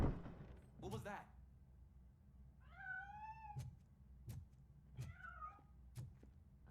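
A cat in the RoboCop: Rogue City video game meows twice, short rising cries spaced a few seconds apart, between game thuds and low background hum, with no talking.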